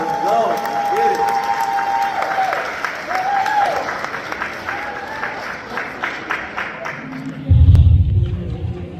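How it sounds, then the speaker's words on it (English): School audience applauding and cheering for cheerleaders at a Black History program, a dense wash of clapping with voices and tonal music under it, then a heavy low thump near the end. "Give yourselves a round of applause."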